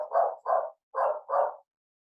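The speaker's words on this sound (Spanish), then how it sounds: "Chuta, el perro." A dog barks four times close by, two quick pairs of sharp woofs separated by a short pause, with nothing else heard.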